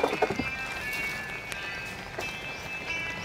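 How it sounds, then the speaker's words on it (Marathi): Heavy rain falling outdoors at a plant nursery, a steady soft patter of drops over a faint background hum, with a few brief knocks and no voices. "तुफान पावसात पण आपलं काम चालू आहे।"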